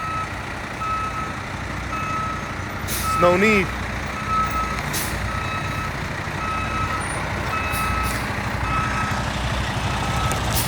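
Dump trucks idle and rumble in a yard, with intermittent reversing beeps and a brief air-brake hiss; someone speaks briefly over the steady engine noise.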